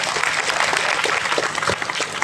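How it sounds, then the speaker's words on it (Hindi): A large audience claps loudly and steadily throughout, dense applause at an event honoring a speaker, with faint voices mixed in. "जोरदार ताली दोस्तों।"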